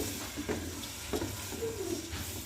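Finely chopped fresh tomatoes dropped into hot oil with frying ginger and garlic, giving a soft sizzle with a few scrapes and stirring knocks of a spoon in the pan, fairly quiet and close.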